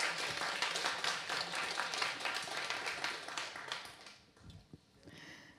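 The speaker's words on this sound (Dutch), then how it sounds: "En we mogen wel even klappen." Audience at a Dutch climate-movement panel discussion claps for about four seconds, a dense, fairly loud patter that then thins out into a few scattered claps and faint murmurs near the end.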